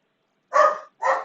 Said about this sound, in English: don't mind my dogs; they're kind of crazy